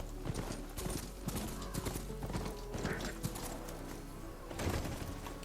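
A horse's hooves clop repeatedly in Horizon Forbidden West, an irregular run of close footfalls with faint bird calls in a game ambience.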